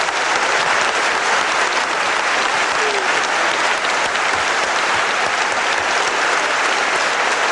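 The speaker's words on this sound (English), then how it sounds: "I'm sure everyone here give him a magnificent round of applause." Loud, dense audience applause in a wrestling hall for wrestler Mike Shannon, a continuous roar of many hands clapping close and steady throughout.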